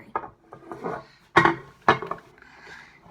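A slime mixture made with laundry detergent is stirred, producing a few close scraping and knocking strokes in irregular rhythm, with two louder scrapes in the middle.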